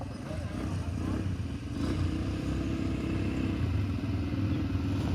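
A motor scooter's engine drones steadily at close range, with a slight rise in revving partway through and road rumble underneath.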